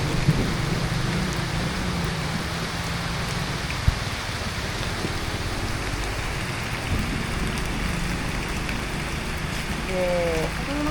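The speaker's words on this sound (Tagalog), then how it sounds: "It's raining!" Heavy rain falls steadily during outdoor tree planting, a dense, even hiss of drops on surfaces that lasts the whole stretch, with faint voices briefly under it.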